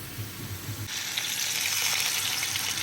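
Onions and meat fry in a pot with a steady close sizzle that grows louder and brighter partway through, with no one talking over it.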